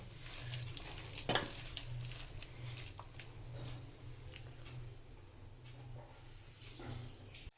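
Rice-and-lentil fritters fry in a pan of hot oil with a steady soft sizzle and patter, and a brief louder crackle comes near the start.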